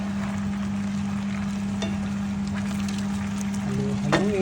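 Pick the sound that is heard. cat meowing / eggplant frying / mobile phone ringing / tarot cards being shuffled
eggplant frying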